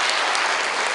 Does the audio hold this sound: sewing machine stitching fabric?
no